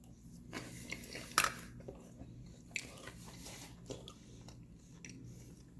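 Someone chewing chocolate peanut butter cereal soaked in milk, close, quiet crunches and soft wet bites coming in an uneven rhythm.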